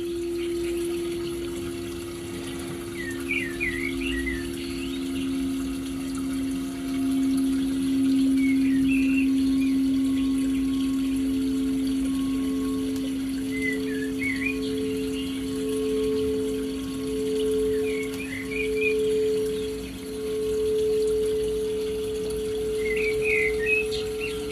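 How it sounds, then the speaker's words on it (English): Water runs steadily in the background with a soft, constant wash, joined by a low sustained hum and intermittent bird chirps scattered throughout. "allow the water in the background, the sounds, to remind you to hydrate"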